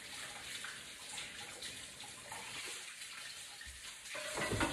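Tap water runs steadily into a bowl, rinsing away foam while making banana steamed cake, splashing and gurgling close by with a slightly louder burst near the end.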